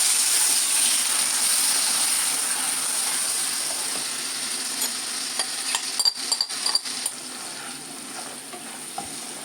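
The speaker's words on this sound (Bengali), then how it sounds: "জল দিয়ে একটা পেস্ট করব, করে আমি কড়াইতে বসিয়ে দেবো।" A paste of turmeric, salt, coriander and cumin powder mixed with water sizzles steadily in a kadai, a close, continuous hiss with a brief cluster of scraping stirs midway.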